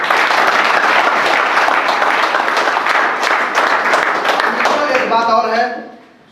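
Seminar attendees give loud, sustained applause for their company leaders. The dense clapping runs close and strong, and a voice begins speaking over the last moments as the clapping suddenly dies away.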